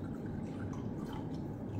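Water is poured into a measuring cup, half a cup of it, as a soft, continuous trickling stream that stays faint and even.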